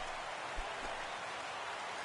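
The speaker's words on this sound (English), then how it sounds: "Rain falling here in the tri-state area as we close in on game time at Yankee Stadium" Steady rain pours over Yankee Stadium before game time in the baseball video game MLB The Show 17, a dense, even hiss with no breaks, heard alone.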